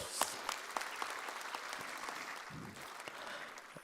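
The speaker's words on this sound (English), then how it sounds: "Applaud and salutations to all." Audience applause fills a hall at a valedictory function closing the 6th World Congress on Disaster Management, a steady wash of many hands clapping with a few sharper claps standing out near the start.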